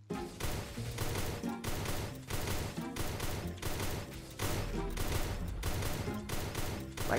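Sniper rifle shots fired and missing in the mobile shooter game Truy Kích Mobile: a loud burst of rapid, repeated gunfire over a dense, steady game soundtrack, continuing for several seconds.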